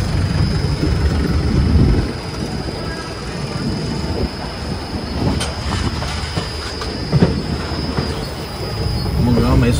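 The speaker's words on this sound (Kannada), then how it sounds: "ಫೈನಲಿ ನಾವು ಬಂದೀವಿ ಮೆಜೆಸ್ಟಿಕ್ ರೈಲ್ವೆ ಸ್ಟೇಷನ್." A train at Majestic railway station in Bengaluru, with loud, continuous rumbling of rolling carriages, clattering wheels on the rails and occasional squeals, up close and steady throughout.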